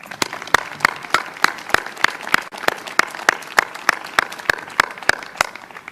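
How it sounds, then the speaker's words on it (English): Applause at a high school commencement, dominated by one pair of hands clapping close in a steady, regular rhythm over fainter crowd clapping in the background. "Give them a round of applause"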